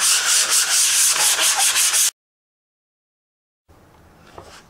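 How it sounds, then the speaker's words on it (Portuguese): Sandpaper rubbed by hand over a tray in quick rhythmic back-and-forth strokes, loud and close for two seconds, then silence, then faint handling noise. "você passa a lixa"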